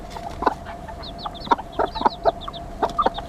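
Chickens cluck in a series of short, close calls with baby chicks peeping faintly in the background, a steady hum running underneath throughout.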